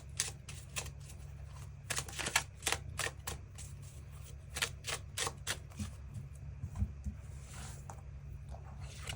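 Tarot cards are shuffled and drawn in quick, crisp flicks and riffles, a run of sharp close snaps in uneven bursts over a low steady background hum.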